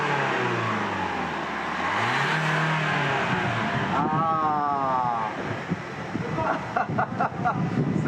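A car engine revs up and down during an eco-control emissions test at a Norauto service garage. The rising and falling engine whine is mixed with wind-like rumble, and voices are heard in the background.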